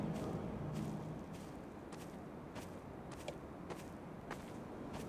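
Footsteps of a walking character in the first-person game Dear Esther, a steady series of soft, quiet steps every half second or so over a hushed ambient background.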